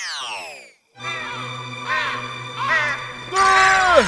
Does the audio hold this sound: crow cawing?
yes